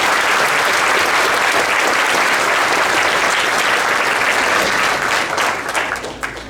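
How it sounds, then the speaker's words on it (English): Audience at a county board of education meeting applauding, a loud, dense burst of clapping from a full room that holds steady and then tapers off near the end. "If we give those guys a round of applause."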